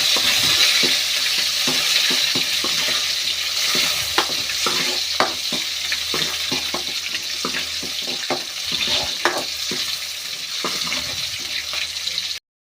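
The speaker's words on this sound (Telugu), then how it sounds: "కొట్టుకున్న తెల్లగడ్డ ఫ్రెండ్స్, అలాగే ఆనియన్స్, ఒకసారి బాగా కలుపుకోవాలి" Crushed garlic and onions fry in a pan while being stirred, making a continuous hissing sizzle with repeated scraping and tapping strokes of the spoon, close and fairly loud.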